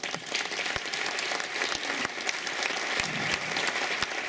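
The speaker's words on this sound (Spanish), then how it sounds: "Fuerte aplauso." Applause from the audience at a conference in Capilla del Monte, Argentina: a steady, dense wash of many hands clapping, with a few sharper individual claps popping out nearby.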